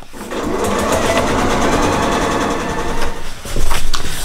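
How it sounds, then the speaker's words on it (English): Sewing machine stitching fabric along a line for foundation paper piecing, a steady close whir of rapid needle strokes running continuously for about three seconds before slowing and revving briefly again. "Okay, I sewed on the line."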